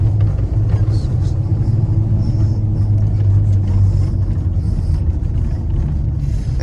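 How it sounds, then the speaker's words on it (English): A 1985 Chevrolet Silverado pickup with a lift, its engine running with a steady low rumble and hum from inside the cab, with a voice talking over it. "The engine's quiet. The truck don't squeak and rattle."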